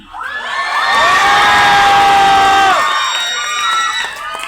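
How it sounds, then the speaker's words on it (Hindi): A crowd of students in a seminar hall shouts together in a loud, sustained roar, rising quickly and holding for several seconds before fading into scattered voices. "ये क्या चिल्ला रहे हो? थोड़ा ताकत लगा के चिल्लाओ ना।"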